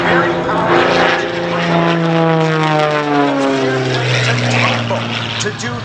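A powerful aerobatic propeller airplane roars past at an air show, its loud engine drone sliding downward in pitch as it passes, with an announcer talking over the noise.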